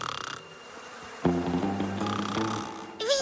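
Flies buzzing in the French cartoon Zip Zip, a steady droning hum that starts abruptly and continues for a couple of seconds before a brief louder burst at the end, with no talking.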